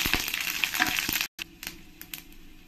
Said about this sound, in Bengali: এবার আমি এই তেলের মধ্যে কিছু গোটা মশলা নিয়েছি, তেজপাতা, শাহি জিরে, এগুলো দিয়ে দেবো।